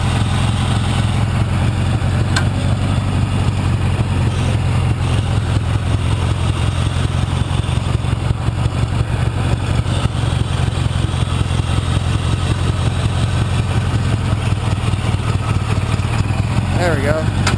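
A Gilson riding mower engine chugs steadily while rock crawling, a loud, close, rhythmic low putter that runs without a break, with people talking over it.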